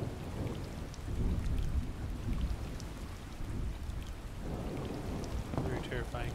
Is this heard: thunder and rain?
yes